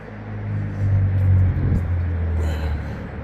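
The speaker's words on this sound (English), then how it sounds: "a car that needs a muffler" A loud car without a muffler drives by on the street, its deep low rumble swelling and then receding over a few seconds.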